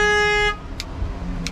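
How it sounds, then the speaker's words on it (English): A truck horn blares loud and close for about half a second, a steady multi-toned blast that cuts off abruptly, followed by low engine rumble and two faint short beeps, at a touch-a-truck event. "Don't honk it anymore."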